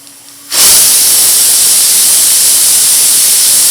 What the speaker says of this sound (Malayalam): ഒരു 2 വിസിലടിച്ച് കഴിയുമ്പോൾ നമുക്ക് തുറന്ന് നോക്കാം.